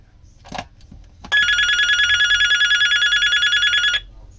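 An HDL intercom rings loudly with a steady electronic trilling tone lasting about three seconds, preceded by a few faint clicks and brief handling noise.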